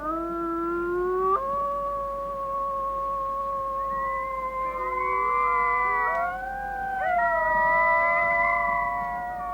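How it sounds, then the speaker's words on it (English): Arctic wolves, a mother and her pups, howl together in a chorus of long, gliding, overlapping tones that rise and fall for several seconds, carrying clearly across open ground. "For whatever reason, Mom began to howl, and the pups joined in."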